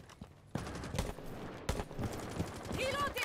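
Rapid automatic gunfire in a tactical shooter game, bursts of sharp cracks over a steady bed of game noise, with a voice talking over the shots.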